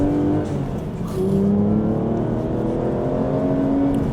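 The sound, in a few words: Aston Martin V12 race car engine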